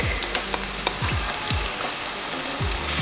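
Pasta sauce with garlic simmers and sizzles in a pan, with a steady close frying hiss and repeated utensil scrapes and taps.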